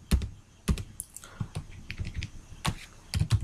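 Quick, uneven keystrokes on a computer keyboard while Vue.js code is entered, close and clear, in short bursts with brief pauses and no talking.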